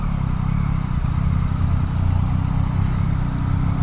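A 2021 Yamaha MT-09 SP motorcycle is ridden on a South Florida road, its engine giving a steady, close, low rumble with light clatter and slight rises in revs, with no talk over it.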